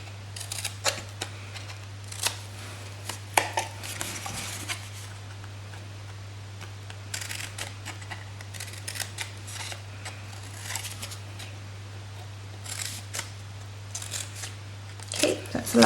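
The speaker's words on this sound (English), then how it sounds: "with our scissors we are just going to cut up and notch out those squares on the corners" Scissors snip and notch the corners of a piece of card, giving soft, scattered cuts and rustles spread across a quiet room with a steady low hum underneath.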